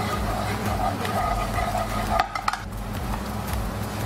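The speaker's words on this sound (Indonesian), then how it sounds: "kita aduk rata sampai kuning telur asin ini meleleh menjadi satu bercampur dengan bawang putih" A utensil scraping and stirring salted egg yolk with garlic in a hot pan, with clinks against the metal and a faint sizzle running underneath, close and steady throughout.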